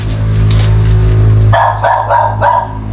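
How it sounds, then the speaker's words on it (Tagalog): A dog barks in a cemetery at night, several sharp barks in a row after a steady humming background, fairly close and loud. "Yung aso kasi. Yung aso."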